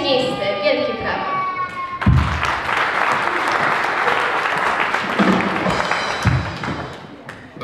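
Audience applause at a news report on a firefighters' competition, a dense burst of clapping that starts abruptly after a short tone and carries on steadily to the end.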